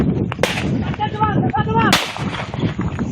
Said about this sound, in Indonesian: polisi memberikan tembakan peringatan ke udara saat hendak menangkap pelaku buronan kasus pencurian mobil